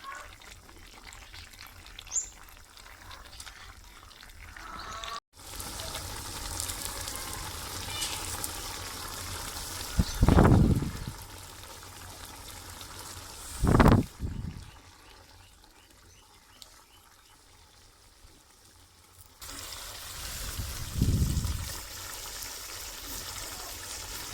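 Water is poured into a pan of cooking bottle gourd and chana dal stir-fry, giving three separate gushing pours over a steady sizzling simmer in a home kitchen.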